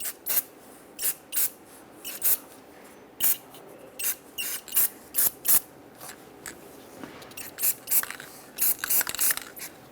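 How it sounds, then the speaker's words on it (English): Short, sharp hisses of an aerosol anti-seize spray fire in quick bursts, about two per second, onto a Ford E-350 Super Duty axle, close by with no talking. "I have the spray kind, so I'm just going to protect the e-brake shoes as I spray this"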